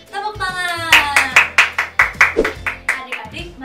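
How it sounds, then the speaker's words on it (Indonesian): Children clap their hands together in a group during a church kids' service, a run of sharp, fairly loud claps in an irregular rhythm with speech-like voices mixed in. "Tepuk tangan."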